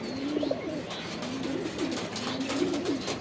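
A Shahjahanpuri pigeon coos in repeated low, rolling phrases at close range, steady and clear against faint background noise.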